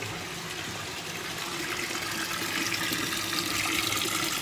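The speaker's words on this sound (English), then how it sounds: "So just getting a bucket of water" Tap water gushes steadily into a bucket at a dog training arena, a continuous splashing fill with no pauses and nobody speaking.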